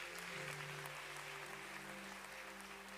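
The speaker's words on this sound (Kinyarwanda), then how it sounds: "dukomere Imana amashyi menshi" Church congregation clapping together, a busy spread of applause layered over sustained keyboard chords held underneath, steady throughout with no speech.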